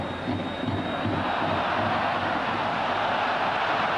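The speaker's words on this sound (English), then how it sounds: "Oh, the crowd love that." A football crowd at Juventus v Napoli in the 1993-94 Italian league season keeps up a broad, steady roar of cheering, loud and unbroken for the whole stretch with no clear voices standing out.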